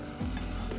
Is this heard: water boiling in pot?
yes